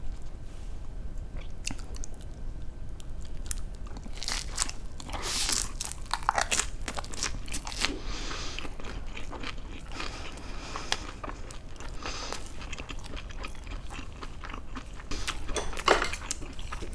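Grilled eel eaten with fried seaweed, producing loud, dense crunching bites and chewing close up over a constant background hiss, with crisp crackles clustered in bursts and no talking.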